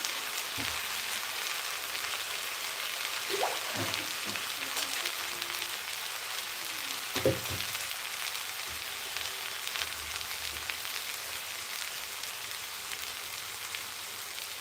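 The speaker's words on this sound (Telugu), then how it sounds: "చక్కగా వీటిని వేయించుకోవాలి" Potatoes, carrot, peas, tomato, green chillies, onions and spices frying in oil as the base for khichdi, a steady soft sizzle like light rain running throughout with a few faint clinks, no one talking.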